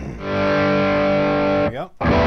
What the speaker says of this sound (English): let's put a little distortion on it